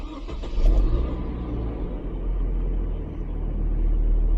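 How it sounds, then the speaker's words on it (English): A Chevy Colorado/GMC Canyon engine cranks and catches, then settles into a steady low idle rumble, close and continuous after a brief louder surge at startup. "Now what I'm going to do is I'm going to start the engine."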